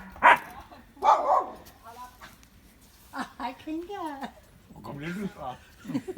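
A family dog gives a few sharp barks and yips close by, reacting to another animal, interleaved with whimpering sounds and a person talking between them.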